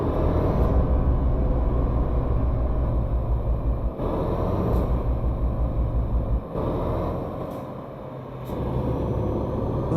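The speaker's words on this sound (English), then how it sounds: "that's the retarder kicking in" Heavy truck retarder braking in Euro Truck Simulator 2, a loud, steady low rumbling drone that drops out briefly twice and then resumes.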